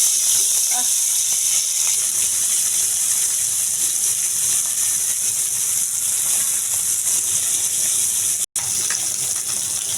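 Small puti fish frying in a shallow layer of hot oil in a home kitchen, giving a steady, loud hiss and crackle that runs throughout with little change, briefly cut off near the end.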